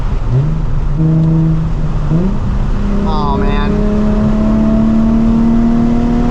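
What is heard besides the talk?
Nissan 350z with Megan Racing exhaust revving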